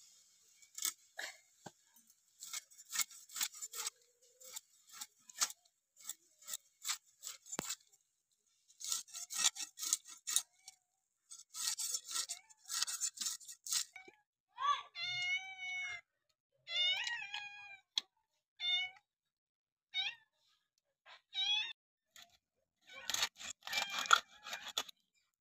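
A silver carp fish being cut up for cooking gives repeated short scraping and cutting strokes in bursts, fairly faint and close, with a cat meowing several times in the middle stretch.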